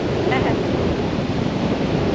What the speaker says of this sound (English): Very crazy wind at the moment.